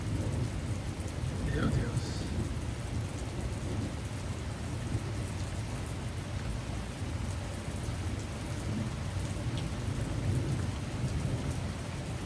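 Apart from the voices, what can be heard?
thunderstorm with heavy rain and strong wind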